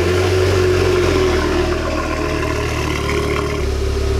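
An Audi RS6 engine runs steadily at low revs nearby while parking, with a slight shift in pitch near the end as it moves slowly.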